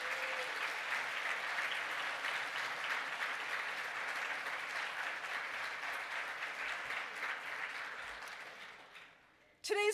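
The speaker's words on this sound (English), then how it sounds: "give a round of applause for those who have supported you" Sustained applause from a graduation ceremony audience honouring the graduates' supporters, a steady dense wash of clapping across a large hall that thins out and fades near the end.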